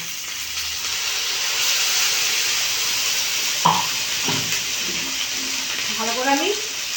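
Water splashes into a hot frying pan holding mustard and poppy seed paste with green chillies while drumsticks cook, giving a steady hissing sizzle with a few brief voice fragments near the end.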